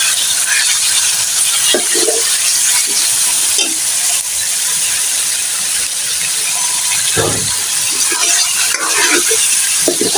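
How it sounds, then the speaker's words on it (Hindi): Meat sizzling and frying in a pot with garlic ginger paste for nihari, a loud, continuous hiss close by, with occasional stirring scrapes and clinks throughout. "लहसुन अदरक का पेस्ट हमने डाल दिया। ये हमने डाल दिया है गोश्त।"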